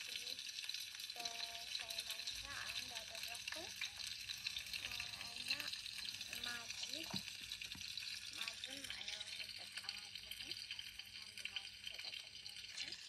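Food sizzles and fries steadily in a pan during home cooking, with occasional stirring clatter and soft kitchen noises layered over the continuous hiss.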